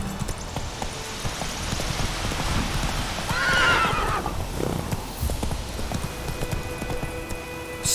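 A horse in The Witcher 3 gallops with rhythmic hoof clip-clops, neighs loudly partway through, then slows. The sound is game audio and nobody talks over it.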